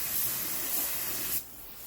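Spray gun hissing as synthetic paint goes onto a Bonser autotruck, a steady close broadband spray that cuts off sharply near the end, leaving a quieter hiss behind.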